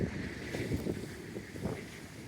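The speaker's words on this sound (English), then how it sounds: "listen to those absolutely lovely sounds of that. The waves crashing in" Sea waves surging onto the rocky shore near Berwick-upon-Tweed by the Scottish border, a steady broadband wash with wind buffeting the microphone and repeated soft surges, with no talk.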